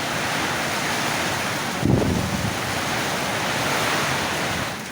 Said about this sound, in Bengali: হায় বাবা, প্রচণ্ড পরিমাণ ঝড়।